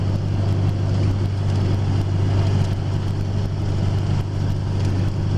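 A modified Ford 7.3 diesel truck engine cruising in overdrive while towing, a steady low drone with a strong hum and constant wind and road roar, heard from inside the cab with no talking.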